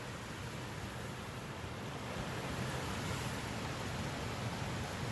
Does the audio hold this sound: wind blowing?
yes